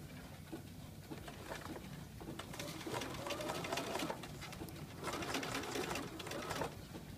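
A sewing machine runs in two bursts of steady rapid stitching while top stitching a lapped zipper, the presser foot working over the fabric, with brief pauses between runs.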